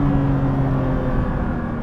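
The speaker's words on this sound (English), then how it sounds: "Just a little blip of the throttle" A Porsche GT3 RS engine given a quick throttle blip, a loud close steady mechanical hum with a strong low drone and little change in level, with no voices.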